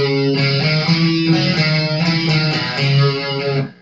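Distorted electric guitar playing a riff without the hammer-on, chords ringing loud and close in a steady rhythm for several seconds before the sound cuts off.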